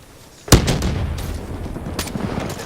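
Shotgun blasts in a first-person shooter video game: one sharp, loud close boom followed by a rumbling tail and a second fainter shot, no speech over it.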